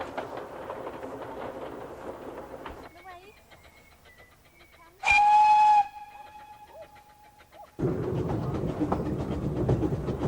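A train on a scenic valley railway near Aberystwyth in Wales rumbles along, drops to a quiet gap with birdsong, gives one loud steam whistle blast, then resumes its steady rolling noise.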